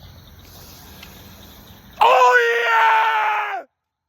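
A man imitates a Max Cavalera-style metal scream, a sudden harsh, raspy, sustained yell of about a second and a half that cuts off abruptly, loud and close after a quiet stretch.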